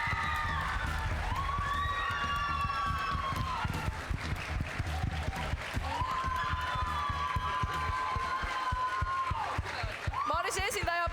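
An audience at a children's event cheers and applauds the second-place team, with continuous clapping, shouts and excited voices throughout, and squealing, rising cries over the top.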